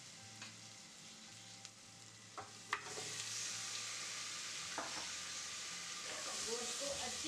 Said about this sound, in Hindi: ये एक मिनट भून गया, तो अब हम इसमें गोश्त डालेंगे।